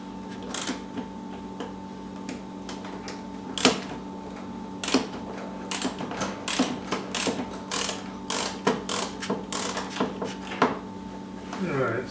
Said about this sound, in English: We'll loosen up this pinch bolt.